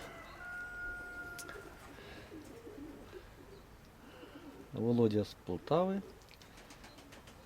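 Pigeons from a Poltava fancier, a record holder at the Ochakiv pigeon loft, give a short burst of close, throaty coos after a quiet stretch, with someone speaking briefly before.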